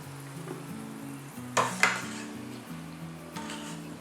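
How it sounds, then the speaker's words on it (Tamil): Cabbage 65 deep-frying in oil until crispy gives a soft background sizzle, broken by a couple of sharp metal utensil clanks against the pan near the middle. "ஸோ நல்ல மொறுன்னு ஆகிற அளவுக்கு நம்ம வறுத்து எடுத்துக்கணும்"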